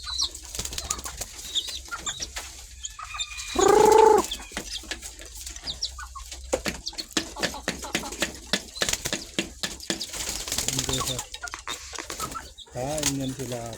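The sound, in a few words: pigeons cooing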